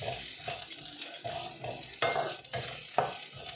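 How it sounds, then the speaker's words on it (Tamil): Pirandai (veldt grape) fries in oil until brown while being stirred, giving a close, continuous sizzle. Scraping stir strokes recur roughly every half second, with a couple of sharper knocks. No talking. "எண்ணெயில் போட்டு நல்லா வந்து ஒரு ப்ரௌன் கலரில் இருக்கிற வரைக்கும் நல்லா வதக்குங்க"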